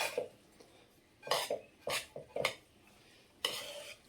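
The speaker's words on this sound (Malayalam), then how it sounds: "പയ്യെ ഇളക്കി മൊത്തത്തിൽ ഇളക്കി റെഡിയാക്കി വെച്ചേക്കുന്ന" Biryani rice is stirred slowly in a pot, giving a handful of spaced, scraping strokes of spoon against metal, close and moderately loud, with quiet pauses between them and no talking.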